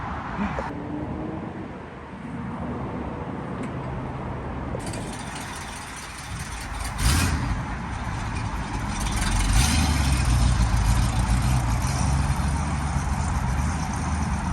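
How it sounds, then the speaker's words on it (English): A 1974 Ford F350 dually ramp truck idles with a rough, low rumble and rattling, varying in loudness across the stretch, with voices talking over the engine noise. "Idles perfectly. Revs perfectly."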